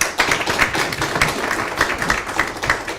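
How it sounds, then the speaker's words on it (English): Applause for panelists at a community forum on offshore wind equity ownership, a crowd clapping steadily and fairly loudly, sustained throughout without speech. "Can we have another round of applause for our panelists,"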